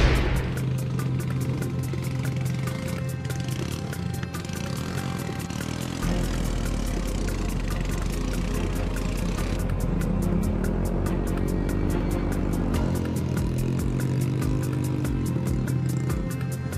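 A motorcycle engine labors up a steep, narrow, slippery plantation track, its mid-pitched drone straining and rising in revs, steady and close with no talking.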